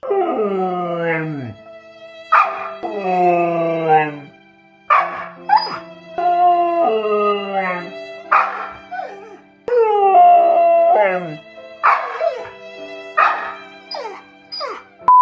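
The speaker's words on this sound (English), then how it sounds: "So if you hear any boofing or howling or borking, that's probably because they're missing you" Siberian Husky howling and boofing up close, long wavering howls broken by short huffs and yips, loud and repeated with brief pauses.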